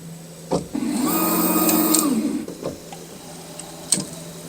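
An xTool S1 laser cutter runs its automatic material-thickness measurement: a steady motor whir rising for about a second and a half, framed by sharp clicks, close and alone.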